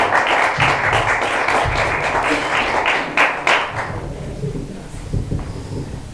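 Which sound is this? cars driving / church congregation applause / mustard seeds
church congregation applause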